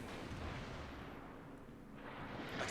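Naval guns fire in the World of Warships video game, a dull, muffled artillery rumble rolling on continuously with low booms and no voices.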